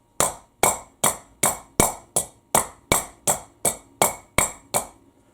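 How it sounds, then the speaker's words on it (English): A soft hammer taps a gear down onto a 2002 Lexus RX300 U140 automatic transmission during assembly: twelve evenly spaced, sharp, close knocks at a steady rhythm, each one ringing briefly. "I'll give it a soft hammer."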